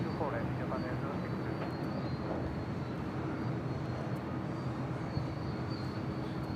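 Aeromexico Flight 647, bound for Mexico City, takes off from runway 24 left at LAX with a steady, broad engine roar that holds at an even level, and a voice talks over it.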